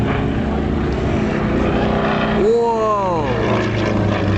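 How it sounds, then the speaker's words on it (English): Propeller aerobatic aircraft diving nose-down at an air show, its engine drone rising into a sweeping, pitch-shifting whine as it passes near, under an announcer's commentary. "pointing the nose of an aircraft straight at the ground is not a natural thing for a pilot to do"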